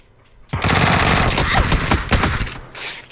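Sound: gunfire in a video game shootout

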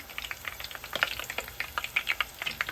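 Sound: okra frying in oil

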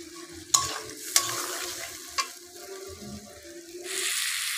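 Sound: spices stir-fried (kosha) for rohu fish curry

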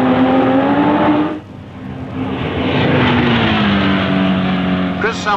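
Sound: racing car speeding along the promenade

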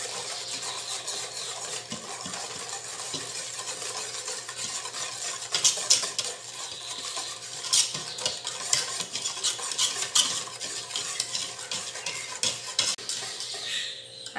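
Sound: whisking batter for Venezuelan bread cake

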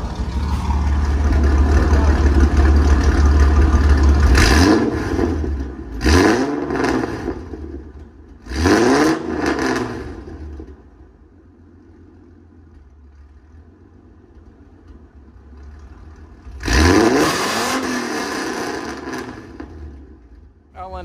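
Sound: V6 car exhaust revving

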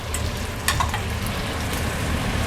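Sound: stirring tomatoes with smoked fish and corn in a pan

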